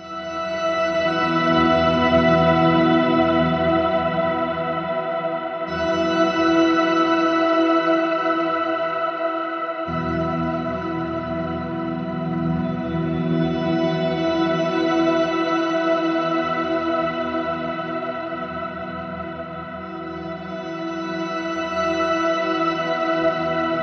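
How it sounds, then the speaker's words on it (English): A sustained electric guitar tone through a Chase Bliss Audio Mood pedal, drenched in big, washy reverb and modulation, ringing continuously with swelling, shimmering tails and no talking. "I'll put on a big reverb."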